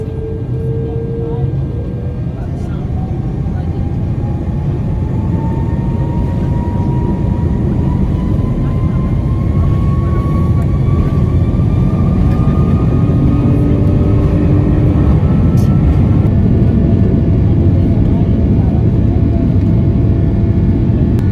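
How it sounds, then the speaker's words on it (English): Rwandair Airbus A330 lining up on the runway before takeoff, heard from inside the cabin: a steady, loud low rumble of engines and airframe with a slowly rising whine, continuous throughout. "So we're just lining up on the runway"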